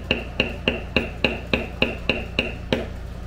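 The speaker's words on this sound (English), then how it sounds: "Now turn it around and bevel the other side to the outside in the exact same fashion." A metal bevel tool is struck repeatedly on leather while cutting a handcut basketweave pattern, giving about ten sharp, evenly spaced taps, close and fairly loud, with no talking.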